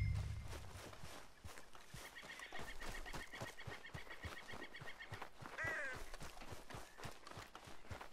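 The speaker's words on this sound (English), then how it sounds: "Shut up, ducks." Ducks quack and honk in a Red Dead Redemption 2 scene, a few nasal calls partly heard over steady rhythmic footsteps and a low background hum.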